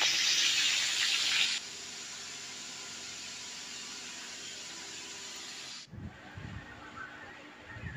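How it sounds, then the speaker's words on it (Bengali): Potatoes and pointed gourd fry in a pan with a steady broadband hiss, loudest for the first second and a half. It then settles to a quieter sizzle, breaks off near six seconds and gives way to low, uneven rumbles. "ওদিকে আলু পটল ভাজা হচ্ছে"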